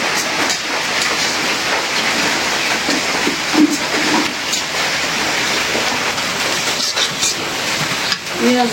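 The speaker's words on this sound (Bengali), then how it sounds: "দেখতে দেখতে বৃষ্টি শুরু হয়ে গেল।" Rain begins falling, making a steady broadband hiss with scattered light patters and clicks that run through the whole stretch at an even, fairly loud level.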